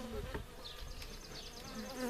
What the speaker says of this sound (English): I got one bee bouncing off me now because they're not happy